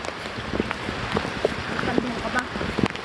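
Rain falls in a steady, soft hiss scattered with small pattering taps. It is fairly faint, and voices murmur alongside.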